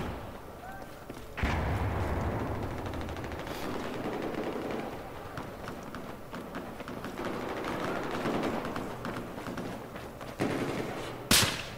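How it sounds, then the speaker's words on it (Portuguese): Rapid automatic gunfire and single sniper shots in a Battlefield 4 match, dense bursts of crackling fire running almost continuously, with a louder blast near the end and faint game sounds underneath. "alguém tá me acertando de sniper"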